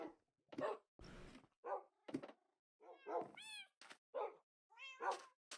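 A cat in the Minecraft video game meows repeatedly in short, separate calls with rising and falling pitch, fairly close and clear, with brief gaps of silence between them and no talking.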